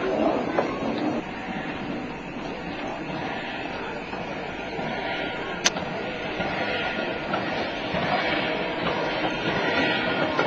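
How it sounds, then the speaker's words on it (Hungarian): A Hungarian steam tram locomotive, having just taken on water, rolls forward to couple at the head of its train, a steady mechanical rumble and clatter with one sharp hiss or whistle partway through. "Mozdonyunk közben befejezte a vízvételezést, és rááll a vonat élére."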